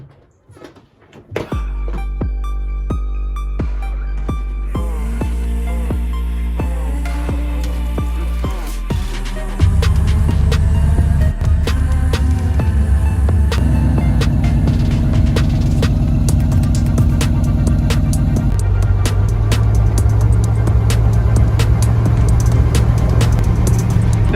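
A built 5.9 Cummins 24-valve diesel engine cranks and fires, then settles into a loud, steady, deep idle that steps up in pitch and intensity partway through, close by and with no talk.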